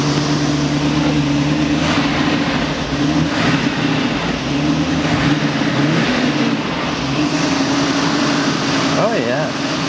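A Mercedes R107 AMG engine running steadily at a slightly high idle after sitting unused for 30 years, producing a constant loud hum and rumble with a whine on top.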